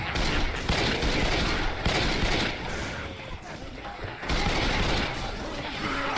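Rapid gunfire from a shooting video game, dense overlapping bursts and volleys that stay loud and continuous, dipping briefly before surging again.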